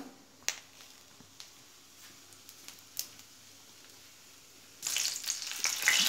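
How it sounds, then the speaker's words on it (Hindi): Cumin seeds hit hot oil and start to sizzle suddenly and loudly after a few quiet seconds with faint clicks. The frying carries on close up with no talking. "हमारा तेल गरम हो रहा है हम इसमें डालते हैं जीरा"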